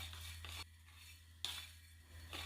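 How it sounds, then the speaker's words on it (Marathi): Coriander seeds and coconut dry-roasting in a pan are stirred in three quiet scraping strokes over a faint background hum, with short pauses between each stroke. "साधारण एक ते दीड मिनिट खोबऱ्यासोबतच हे धने आपल्याला भाजून घ्यायचे आहेत"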